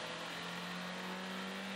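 Engine of a 2022 Honda Civic Si running on a dyno, a faint steady hum with a droning low tone and no clear rise in revs, no talk.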